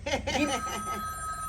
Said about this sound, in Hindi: अरे बार बार घंटी बज रहा है मोबाइल में।